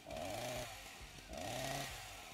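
A chainsaw in the video game Vampire: The Masquerade revs up twice, each burst rising to a loud buzzing whine then dropping back to a rough idle, close and alone.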